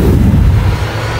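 A big shotgun firing in a zombie shooter game: a loud, deep, booming blast with a rumbling low-end tail that fills the brief moment.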